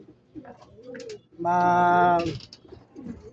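Racing pigeons, a Light Checkered and a White Feather Checkered, coo softly, with one sustained, resonant call in the middle that stands out above the quieter murmuring before and after.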